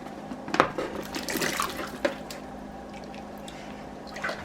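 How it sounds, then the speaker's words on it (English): Chunks of meat slide back into warming goulash soup broth in a pot, giving a few soft wet splashes and squishy plops close by, then quieter liquid movement. "We're going to add our meat back into the stew."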